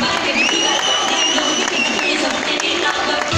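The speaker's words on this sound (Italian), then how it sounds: "un bel applauso per questi splendidi ballerini." An audience applauds dancers at a dance school show, a loud, dense, sustained wall of clapping with cheering voices and a high whistle rising above it.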